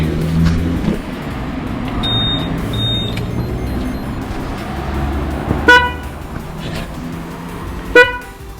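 Two short car horn honks, spaced a couple of seconds apart, sound over steady low engine idle; a faint higher beep tone appears earlier.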